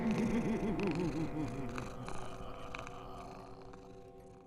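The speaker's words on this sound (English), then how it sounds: "You hear a purr" A soft, close purr rumbles steadily in rhythmic pulses, fading slightly over a few seconds with no voices, used as a sound effect in a fantasy tabletop role-playing podcast.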